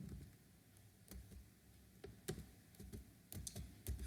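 Python code is typed on a computer keyboard, with quick irregular clicks and key taps in short bursts. The typing is close and fairly quiet, with no voices.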